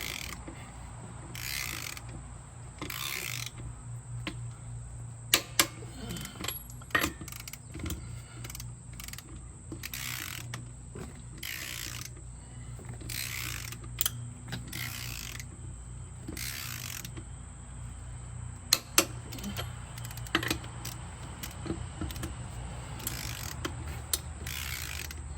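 A ratchet tightens wheel spacer lug nuts on a TYM T474 tractor deep in the wheel well, with repeated bursts of rapid clicking pawl strokes over a low steady hum.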